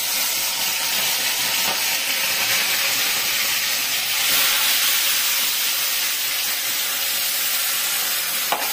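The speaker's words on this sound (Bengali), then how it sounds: "এক এক করে এখন মাছগুলো ভাজবো।" Pieces of foli fish fry in hot oil for a fish curry, giving a loud, continuous hissing sizzle that stays steady throughout.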